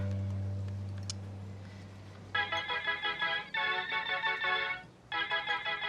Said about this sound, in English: It's your song as a ringtone.